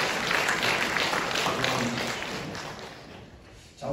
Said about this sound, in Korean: 우리 권사님들 힘내도록 우리 격려의 박수 한번 보내주십시다.